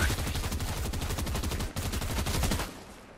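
Rapid automatic gunfire in the Fortnite video game, a dense continuous burst of shots for nearly three seconds that cuts off abruptly, with no talking.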